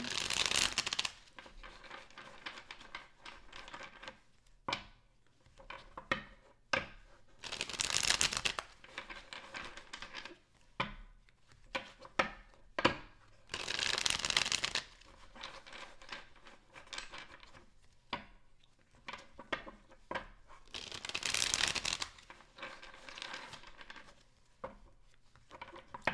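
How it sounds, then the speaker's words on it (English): Tarot cards shuffled during a reading, with bursts of riffling and soft papery flicks and taps repeating at intervals, close and quiet, separated by near-silent gaps. "Last shuffle."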